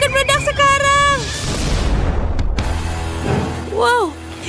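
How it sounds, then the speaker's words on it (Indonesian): Cartoon explosion sound effect: a loud, sustained rushing roar lasting over a second that cuts off abruptly, set between bursts of animated voices speaking. "Aku akan meledak sekarang."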